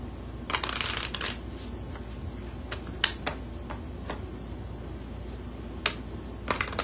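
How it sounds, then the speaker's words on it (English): Angel oracle cards shuffled by hand in repeated crisp riffling bursts and snappy flicks, close and fairly quiet over a low background hum. "I just shuffle the cards until I'm guided to stop."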